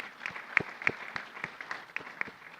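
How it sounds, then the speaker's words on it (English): Scattered clapping from a small audience, uneven claps rising and falling over a few seconds, moderately distant. "I think we have to give a big round of applause for Esther."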